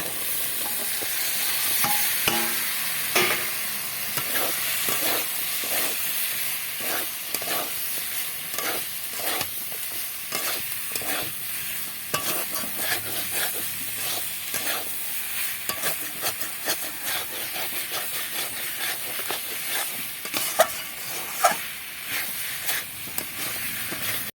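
Taro stems tipped into sizzling masala and stirred, a long run of rhythmic scraping and stirring strokes over continuous frying hiss, heard close with no talk.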